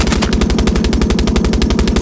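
Rapid automatic gunfire from the video game Far Cry 6 rattles out in a fast, even burst of roughly two dozen sharp shots, loud and close, without any voices.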